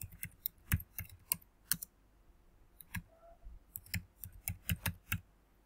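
Computer keyboard typing while notes are written: close, crisp key clicks in short bursts with brief pauses between them, quiet and alone.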